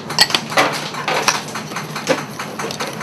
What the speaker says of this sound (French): On fouette énergiquement